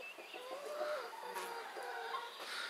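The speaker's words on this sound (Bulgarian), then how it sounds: "Кокошките." Hens cluck softly in a fenced yard with a rooster nearby, faint and somewhat distant, mixed with light bird calls over a quiet outdoor background.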